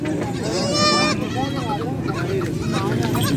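Goats bleat at a livestock market in Faisalabad, with several wavering, nasal cries rising over a busy crowd murmur and nearby talk.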